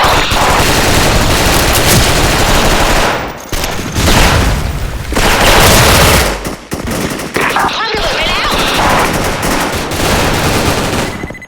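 Dense gunfire and booming grenade blasts from a video game battle, rapid automatic bursts almost nonstop with brief lulls, loud and close throughout, with faint voices mixed in.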